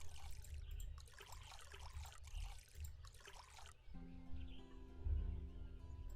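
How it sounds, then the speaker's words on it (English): In the cozy witch life-sim game Witchy Life Story, water trickles and pours as garden plants are watered, a faint light splashing that comes in short bursts before giving way to a soft tonal game chime and birdsong. "Let's water everything."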